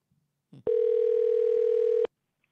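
A single steady electronic tone, like a phone ringing out on the line, holds for about a second and a half after a brief click, then stops.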